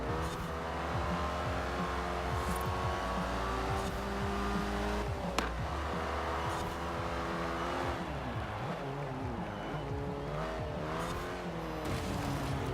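A Hudson Hornet racing in Forza Horizon 4, its engine droning steadily and rising and falling through gear changes, with tire squeal and a brief sharp knock partway through.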